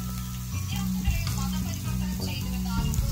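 Chilli masala for fish pickle fries in a pan with a steady close sizzle and intermittent stirring clinks.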